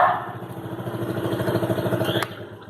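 Yamaha Crypton motorcycle with its original exhaust, idling steadily after a start, a close, even low putter with a fast regular pulse that carries through the whole moment.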